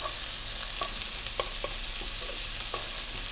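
Onion dropped into hot oil with cumin seeds fries with a steady hiss, punctuated by scattered clicks and pops of stirring at close range, no voices present.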